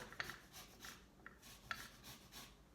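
Citrus or similar food is zested on a fine grater, giving faint, close, rhythmic rasping strokes, about eight of them in under three seconds, with no voices.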